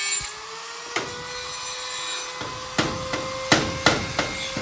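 Workers hammer wood while building a shop, with sharp irregular blows, a few spaced apart and then a quicker cluster near the end, over a faint hum and light scraping.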